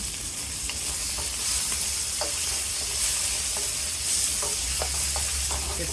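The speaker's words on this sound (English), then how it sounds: "So I'm going to cook the beef now" Beef frying in a little oil in a pan, a steady close sizzle with occasional crackles and stirring scrapes throughout, with no one talking.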